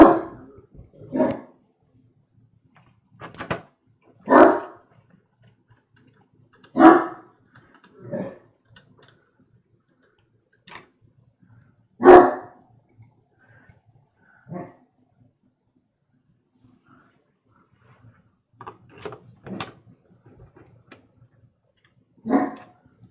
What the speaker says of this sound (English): the dog's being loud again